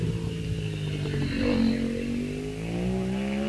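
A KTM race car climbs the Wiscombe Park hillclimb course, its engine revving and rising in pitch through the gears at moderate distance, with a brief shift and a steady pull afterward.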